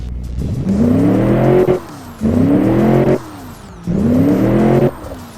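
A 165.4 kW car engine in the game Automation/BeamNG revs hard three times, each rising whine climbing in pitch, then cutting off briefly before the next burst; loud and close.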